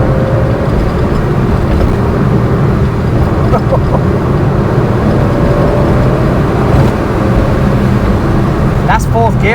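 A 1974 Porsche 911 2.7 RS engine pulls hard in fourth gear from inside the cabin, a loud, constant drone that continues throughout, with people talking over it.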